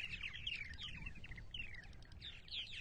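Purple martins call around their nest houses on eastern Long Island, New York, giving a steady run of bright, descending chirps and warbles from several birds at close to moderate range, with no talking.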